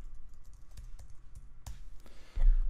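Rapid, irregular key taps on a computer keyboard while a password is entered, close and crisp, ending with a louder thud.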